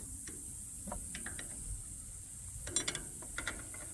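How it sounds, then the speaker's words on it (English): A 17 mm wrench cracks loose the diesel injection line nuts on a Kubota B6100 4x4 tractor, giving a few quiet metallic ratcheting clicks and small clinks against faint background hiss. "get you a 17 millimeter in my case, and you are going to crack all of these injection lines"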